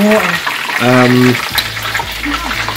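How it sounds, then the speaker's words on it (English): Wontons deep frying in hot oil while rice cooks for a home-cooked Chinese meal, a steady sizzling hiss running under people talking nearby. "just deep frying the wontons at the minute"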